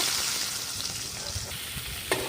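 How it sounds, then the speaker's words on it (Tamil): Brinjal and capsicum sauté in a pan for a South Indian vathakkal, giving a close, continuous sizzle with soft stirring scrapes and a brief clink near the end. "போட்டு நல்லா வதக்கி விடுங்க. கொஞ்சம் அது கலர் மாறணும்."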